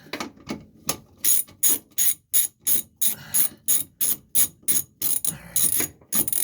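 A long bolt is backed out of a brake pedal mechanism during a manual brake conversion, giving a steady series of sharp ratcheting clicks in regular bursts, close and clear with no talking.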